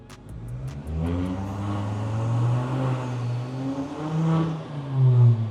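A big-turbo Abarth engine revs during a tuning pull, a steady loud drone whose pitch rises and dips in waves, with a few sharp ticks at the start and a surge near the end.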